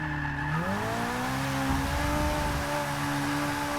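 A 600-horsepower rear-wheel-drive supercar in Forza 6, its engine revving up in a rising whine and holding a steady high drone with faint tire noise underneath.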